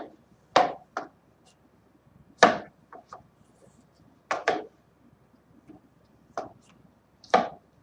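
A knife cuts through food on a board in a series of separate sharp chops and slices, about nine crisp strokes at uneven intervals, close and clear with quiet gaps between and no talk.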